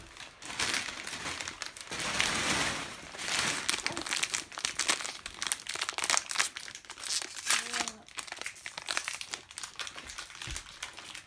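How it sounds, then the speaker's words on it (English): Wrapping paper crinkles and crackles steadily as it is pulled off chocolate bars at a child's birthday, close and busy with dense bursts, and a brief voice slips in near the end. "get the um, wrapping paper out of the way"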